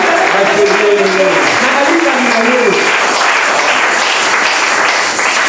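A church congregation applauds the Lord during a French-language sermon on the baptism of the Holy Spirit, a dense, loud, continuous wash of clapping mixed with raised voices.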